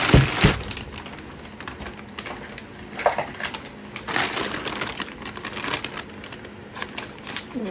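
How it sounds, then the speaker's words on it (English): A Toguro figure is pulled out of its plastic packaging, with crinkling, crackling plastic and scattered taps and rustles running throughout at close range. "let's take Toguro out of this plastic"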